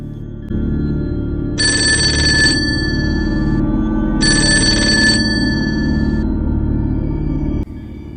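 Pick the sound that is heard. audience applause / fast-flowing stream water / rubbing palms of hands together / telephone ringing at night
telephone ringing at night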